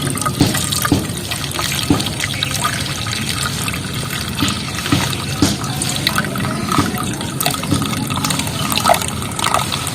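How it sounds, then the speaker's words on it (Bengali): Water poured slowly off soaking cornflour in a bowl, a steady close trickling and splashing that runs unbroken throughout with no talk. "আবারও আমি জলটা আস্তে আস্তে ফেলে দেবো বেশির মধ্যে, আস্তে আস্তে ঢেলবো।"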